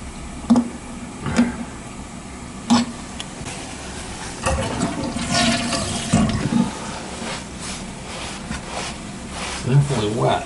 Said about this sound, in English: Wipe up all the water and flush it a few times